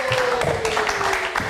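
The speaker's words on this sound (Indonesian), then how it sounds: "Boleh kita kasih tepuk tangan yang paling meriah pastinya" Studio audience applause on a live talk show greeting guests from a rock band: a dense, steady crowd clapping throughout, with a sustained musical tone and voices mixed in.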